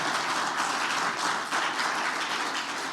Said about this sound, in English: You can applaud that if you like, Pete.